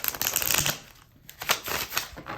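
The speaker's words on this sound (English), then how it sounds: "Kind of hard to shuffle though." A skeleton-themed tarot deck is shuffled by hand, with dense riffling card flutters in two bursts separated by a short pause, close and clear.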